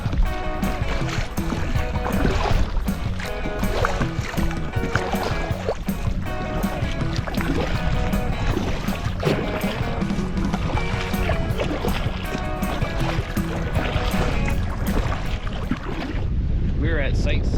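Motorboat engine running steadily on the French River after leaving Ox Bay, a loud continuous drone with wind and water noise throughout, sometimes blended with a voice.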